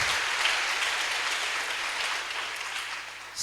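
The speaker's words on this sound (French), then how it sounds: "Acclame très fort pour le Seigneur" A church congregation claps loudly and steadily in praise during a Sunday service, a dense, continuous wash of applause that tapers slightly near the end.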